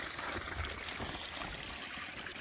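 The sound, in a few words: babbling stream water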